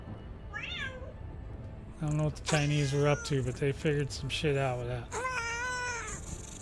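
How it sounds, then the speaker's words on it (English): A house cat meows loudly and insistently close by, with a series of drawn-out, rising and falling cries, while someone talks over and between them. "I got the kitty cat in my ear just yelling to me to death"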